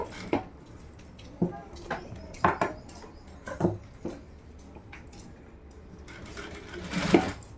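A Jack sewing machine stitches a saree blouse on a long stitch setting, producing soft, faint, uneven tapping and whirring bursts at close range.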